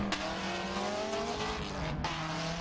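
A V8-powered Holden and a four-cylinder turbo Nissan race in a drift battle at the Australian Drifting Grand Prix in Perth, with loud continuous engine roar and tire noise and a sharp break near the end.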